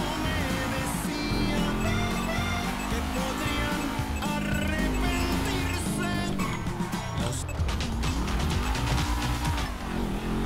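Car driving in Grand Theft Auto V story mode, with a steady loud engine roar, shifting revs and tire squeals over game music and effects, continuous throughout.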